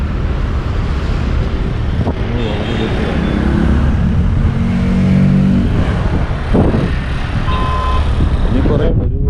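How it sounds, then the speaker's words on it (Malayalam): Vehicles driving along a road below a hillside tea plantation in Munnar, their engines rising and fading as they pass at a distance, with wind buffeting and a person talking over the traffic. "താഴെ കൂടെ വണ്ടികളിങ്ങനെ വരുന്നുണ്ട്."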